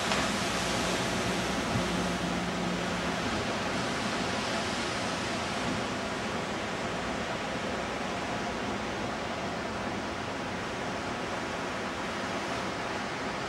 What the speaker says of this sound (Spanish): Olas muy fuertes.